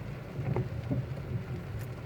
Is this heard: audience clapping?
no